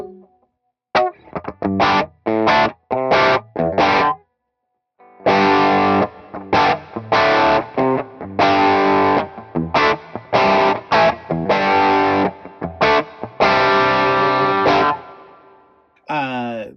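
Distorted electric guitar from a Fractal FM3 rig plays choppy chords and short riffs, dry with no reverb, the notes cutting off sharply into silence between phrases.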